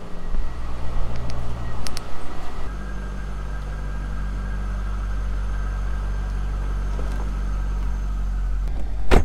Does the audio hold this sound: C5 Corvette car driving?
yes